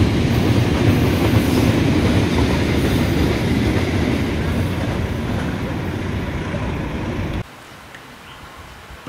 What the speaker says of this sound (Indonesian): Setelah KS 4 melintas, dari barat nampakkah angkutan BBM berpapasan.